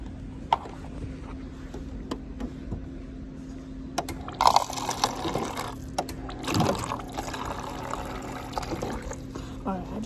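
In a lounge, free water is poured from a dispenser with a mechanical click and a short burst of trickling liquid, set against steady room hum and scattered handling noises.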